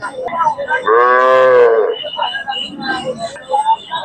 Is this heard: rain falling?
no